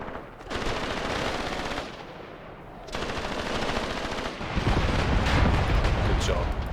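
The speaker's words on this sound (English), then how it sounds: "Panzer II's are now also suppressing with their autocannon, and that is super deadly against enemy infantry" Panzer II autocannon and machine gun fire in the Graviteam Tactics war game pours out in continuous rapid rattling bursts with heavy booming impacts underneath, loud and dense throughout, with a brief lull in the middle.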